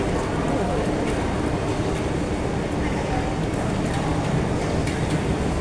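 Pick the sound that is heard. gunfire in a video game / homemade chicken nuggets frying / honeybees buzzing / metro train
metro train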